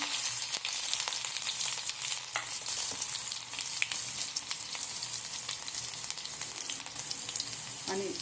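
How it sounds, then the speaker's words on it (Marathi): Cumin seeds and garlic, added after mustard seeds have popped, fry in hot oil in a home kitchen, giving a steady close sizzle with scattered crackles and pops, without talk. "फुटून देऊया तेलामध्ये मग घालूया जरासं जिरं मग थोडासा लसूण"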